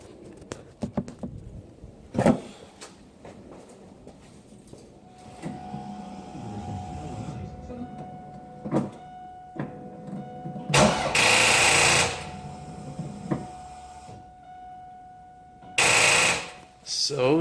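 A Pontiac Trans Am WS6 with a weak battery cranks in short, loud bursts without starting, with a faint whine between attempts and a person talking in between.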